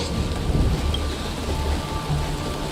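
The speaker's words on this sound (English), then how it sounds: "Mommy! The rain! It's raining!" Rain and thunder in the video game Honkai Star Rail: a steady heavy downpour hiss with low rumbling thunder rolling underneath, constant and enveloping with no voices.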